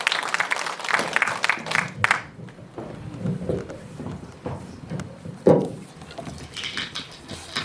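An audience at a reunification workshop claps to welcome a speaker, starting as dense applause that thins into scattered claps, with some voices and a louder knock midway.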